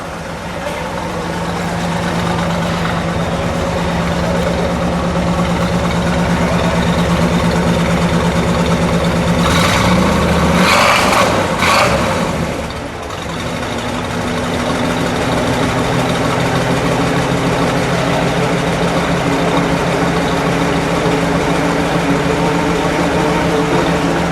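A 1965 Pontiac GTO convertible with its 389 V8 idles loudly and close by, a steady lumpy rumble with a brief rise in revs near the middle.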